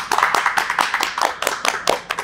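Applause for bassist Miky Huidobro at the close of an interview, a small group clapping in quick, uneven bursts for about two seconds, close and fairly loud.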